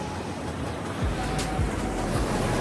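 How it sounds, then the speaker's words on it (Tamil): Ocean surf at Varkala beach in Kerala, with waves rolling in and breaking close by under steady wind noise, the low rumble of the water swelling louder in the second half. "ஆக்சுவலி உங்களுக்கு சவுண்டு கேட்கும்னு நினைக்கிறேன், பீச்சில் இருக்க சவுண்டு."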